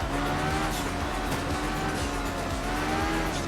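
Race car in a rainy racing video game, a continuous loud close engine roar with turbo whine and tires sliding on wet track, the engine pitch wavering as the car slips.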